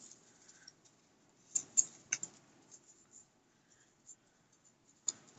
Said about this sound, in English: And let's go for three. Okay, and then fold each of those in half.